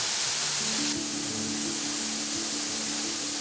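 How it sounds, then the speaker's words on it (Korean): Waterfall flowing in an untouched forest in Cheorwon, a steady broadband rush of falling water, louder in the first second and then settling into a continuous hiss with faint low murmurs underneath. "한참을 넉넉히 바라보게 되는 폭포의 물줄기"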